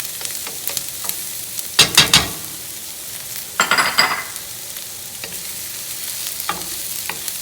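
Garlic fries in a pan as a steady close sizzle, with a few louder bursts of stirring and scraping and no voices.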